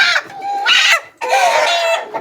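A local farm chicken, a hen of roughly three kilograms, gives two loud, close squawking clucks separated by a short pause, with no talking.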